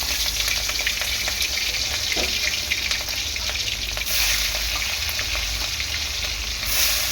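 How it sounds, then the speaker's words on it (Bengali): Crab and giant freshwater prawns with turmeric frying in hot oil in a pan, a loud continuous sizzle with occasional stirring scrapes and surges of spitting. "এই যে কাঁকড়া আর চিংড়ি মাছের মধ্যে একটু হলুদ গুঁড়ো দিয়ে দেব। এর মধ্যে ভেজে নেব।"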